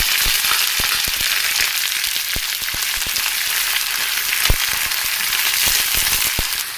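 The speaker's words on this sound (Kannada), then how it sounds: "ಆಮೇಲೆ ಅವರೆಕಾಳು ಹಾಕ್ಕೊಂಡು ಸ್ವಲ್ಪ ಹುರ್ಕೋಬೇಕು." Hyacinth beans (avarekalu) frying in hot oil with dried red chillies and garlic in a pan, a loud, dense sizzle peppered with frequent sharp pops and crackles, close up and with no speech.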